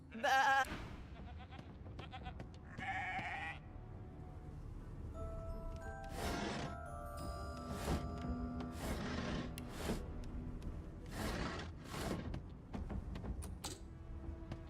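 A sheep bleats in the fantasy video game Divinity: Original Sin 2, several drawn-out bleats over a low game ambience, with a spoken voice and other game sounds mixed in.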